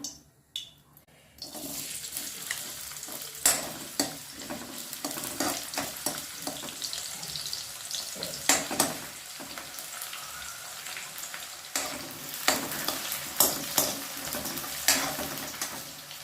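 Onions and idli frying in hot oil on a tava, a steady close sizzle with scattered louder crackles and occasional scraping stirs throughout.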